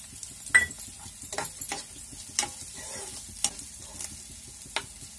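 Onion frying with green garlic and green chillies in a pan for an aloo-tomato dish, a soft close sizzle broken by sharp spatula scrapes and clinks at an irregular pace, with no voice.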